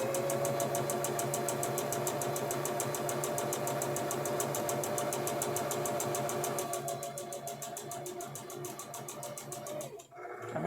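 A sewing machine stitches fabric in a steady, fast mechanical run, loud and close, then slows and eases off toward the end and stops briefly at a point before picking up again.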